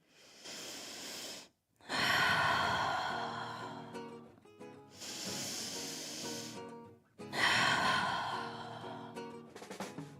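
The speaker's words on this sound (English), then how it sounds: "Breathing here." A person in a yoga wide-legged forward fold takes long, audible breaths, with slow alternating inhales and exhales, close and clearly heard, about three full breath cycles with brief pauses between.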